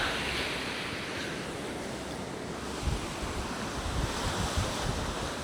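Strong wind roars across a Fort Lauderdale beach, buffeting the microphone with steady low rumble while surf washes in beneath it, gusting a little harder toward the end.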